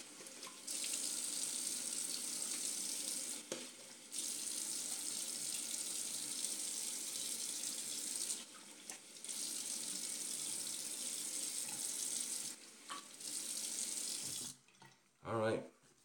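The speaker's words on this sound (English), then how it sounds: "Let me just rinse off." Tap water runs steadily into a sink while someone rinses off after a shave, the broadband rush breaking off briefly a few times before stopping near the end.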